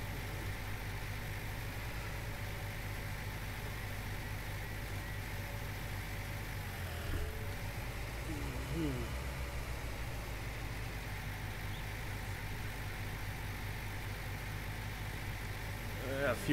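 A low, steady tractor engine idle in the video game Farming Simulator 19 drones throughout, rumbling and unchanging, with faint background sounds layered over it.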